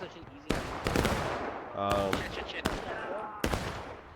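Volleys of gunfire in a multiplayer video game crack out as several sharp, loud shots spaced through the moment, with talk running between them.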